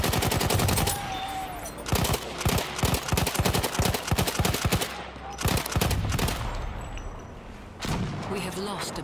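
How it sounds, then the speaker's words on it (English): A machine gun in a World War One game setting at Monte Grappa rattles in rapid, dense bursts. The close, loud firing is layered over steady battle din and distant shots. "Machine gun over there!"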